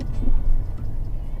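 Muffled road and engine rumble inside a moving Tesla Model S in Corona, California, a steady low drone of traffic heard from the cabin without speech.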